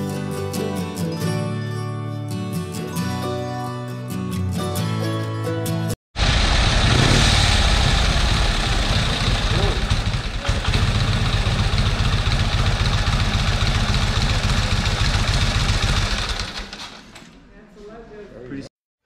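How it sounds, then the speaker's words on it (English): A 100-year-old antique motorcycle engine runs steadily and loudly up close after a brief stretch of music, its dense even drone holding until it tapers off near the end. "How awesome is that to hear a 100-year-old motorcycle running to perfection?"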